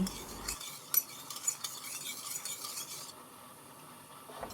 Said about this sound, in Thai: จากนั้นคนให้น้ำตาลทรายละลาย